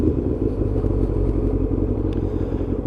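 A ZX7R motorcycle cruises along a dry road while its tyres warm up, giving a steady, close engine rumble throughout, with no pauses and only faint clatter.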